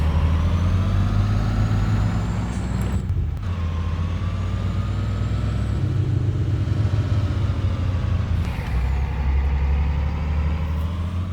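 A farm truck hauling grain in Farming Simulator 22 drives along with a steady low engine drone, a brief dip and gear-change lull partway through, then the rumble resumes and holds steadily throughout.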